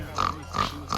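Voices imitate pigs with repeated nasal oinks at a children's piggy race on a farm, two or three short bursts in one second, close and moderately loud.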